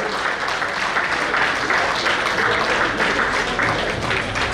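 Steady crowd applause at a cricket club awards banquet night greets the best wicket keeper award, a dense sustained wash of clapping from a full room.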